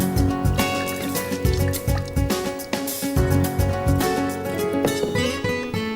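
Thick plum syrup, aloo bukhara murakkab, pours and drips into a jug in a kitchen, a close, uneven run of wet glugs, splats and trickles over several seconds with no voices.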